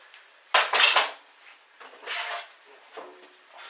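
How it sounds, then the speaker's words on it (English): A plastic chopping board clatters against a kitchen counter with a loud knock as it is swapped for a red one, followed by softer scraping and bumps as it is set down. "what we're going to do now is switch out the chopping board"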